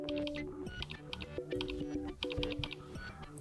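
Quick, rhythmic tap clicks come from typing on the touchscreen keyboard of a Samsung Galaxy Note 10, a steady run of crisp, close keypresses with no voices.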